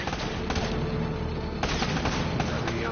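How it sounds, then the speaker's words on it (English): Rapid gunfire in the video game Uncharted, continuous loud bursts of shots crackling throughout, with a few sharper cracks standing out. "Less talking, more shooting."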